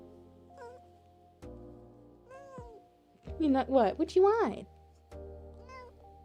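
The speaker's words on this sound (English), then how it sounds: "Her meow was kind of quiet." An old pet cat gives a few quiet, drawn-out meows in a room, with a louder wavering burst in the middle, while a person speaks softly around the cries.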